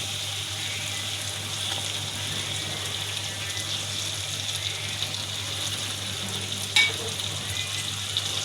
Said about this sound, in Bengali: মশলাটা কষানো হয়ে গেছে আর মাছগুলো দিয়ে দিলাম